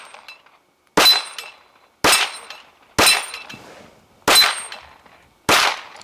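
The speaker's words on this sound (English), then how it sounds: "you draw your pistol, and you shoot a dueling tree" Five sharp pistol shots at a steel dueling tree during a practical shooting stage, each crack followed by a metallic ring, spaced about a second apart, close and loud.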